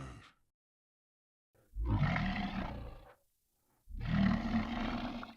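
A vocal roar recorded on a Rode NTG2 shotgun microphone and pitched down into a deep monster-like growl, heard as two long, loud bursts separated by silence.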